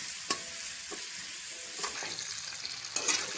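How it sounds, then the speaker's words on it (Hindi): Onion frying with ginger garlic paste in a pan, a steady close sizzle broken by a few sharp scrapes as the mixture is stirred. "अब इसको कुछ देर के लिए भून लेंगे।"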